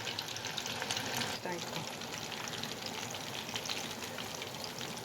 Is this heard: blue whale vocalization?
no